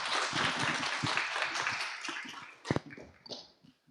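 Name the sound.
applause from congregation welcoming a missionary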